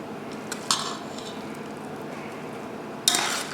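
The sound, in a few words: spooning mixture into cornbread mix with cutlery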